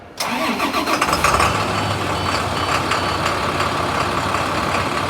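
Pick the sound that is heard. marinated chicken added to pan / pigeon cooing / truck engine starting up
truck engine starting up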